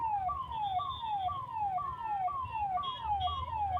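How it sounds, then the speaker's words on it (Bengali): An ambulance siren wails while stuck in a traffic jam on the Silchar national highway during a mini flood. Loud, fast, repeating falling sweeps run continuously over a low traffic rumble. "খালি wow wow wow wow sound করছে কিন্তু ট্রাফিক জ্যাম থেকে বেরোতে পারছে না"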